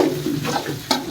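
Dried red chillies tempering in hot oil for masala sevai, a brief close sizzle and crackle with a sharper pop near the end, no voices.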